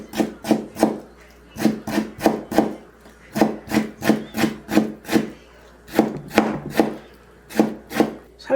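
A knife slices firm pickled Jeju radish into thin strips on a cutting board, making a steady rhythm of crisp, close chopping strokes with brief pauses between runs.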